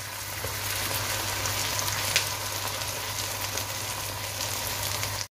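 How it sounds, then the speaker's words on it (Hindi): Cream for chicken Alfredo pasta hits a hot pan and sizzles in a steady, even hiss, continuous and close with no talking. "ये देखिए हमारी ये चली गई क्रीम।"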